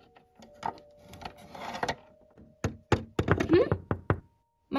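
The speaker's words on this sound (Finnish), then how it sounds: "Koputtiko joku tähän oveen oikeesti vai kuulis mä omiani?" Someone knocks on a door in a short film, a string of sharp wooden raps in uneven bursts, mixed with shuffling and a brief voice.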